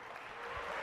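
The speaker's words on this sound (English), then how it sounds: "let's give a big round of applause for our orchestra today" A concert audience applauding the orchestra at a Legend of Zelda 25th Anniversary Symphony event, a steady, fairly distant wash of clapping that holds at an even level without breaks.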